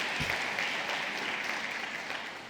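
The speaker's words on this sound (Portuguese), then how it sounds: "Aplauda o Senhor." A church congregation applauding during a worship service, a dense, even patter of many hands that fades slightly toward the end, fairly soft and heard without talk.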